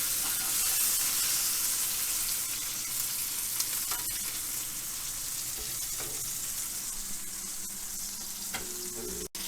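A burger patty frying in a pan, a steady, loud, close sizzle that holds for several seconds, then a faint clunk near the end, with no talk.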